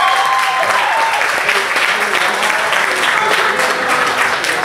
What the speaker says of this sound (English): Give it a round of applause for Dr. Quinones.